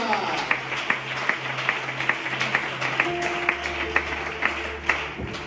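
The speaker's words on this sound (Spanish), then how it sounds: "Dales aplauso a la palabra de Dios." Congregation at a church service clapping in applause, scattered claps repeating steadily throughout while a sustained keyboard chord plays beneath and a voice speaks over it.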